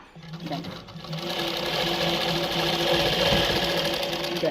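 A zig zag tailoring sewing machine stitches fabric in one steady, loud whirring run lasting several seconds, with a voice present alongside the mechanical hum.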